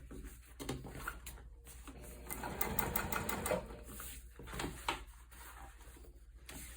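A sewing machine stitches a wide tote bag, running in steady mechanical bursts with brief pauses between runs, close and moderately loud.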